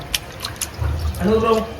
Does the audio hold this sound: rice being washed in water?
yes